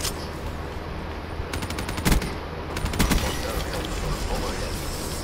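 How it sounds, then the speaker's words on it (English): Peacekeeper submachine gun fire in the Black Ops 3 video game, rapid bursts of shots crackling over dense game noise, with a couple of sharper louder volleys in the middle. "Peacekeeper, I love that gun."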